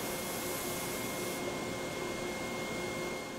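A sandblaster cleaning rough bronze castings in a workshop, giving a constant loud hissing roar with a faint steady whine underneath, uninterrupted throughout.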